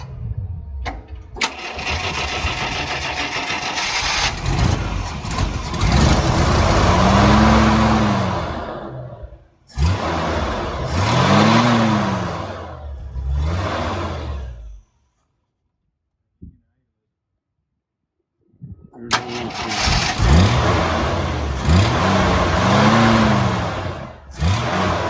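A 1968 Kaiser Jeep M715 engine cranks and fires, then revs up and down in loud surging bursts with rough idling between. The engine cuts out for a few seconds of near silence before starting again and revving.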